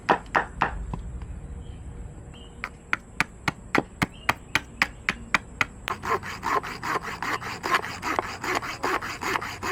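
Wood is roughly sawn by hand for a small handmade fishing lure, a close, loud series of sharp back-and-forth strokes that speeds into a fast, rasping rhythm, with no talking.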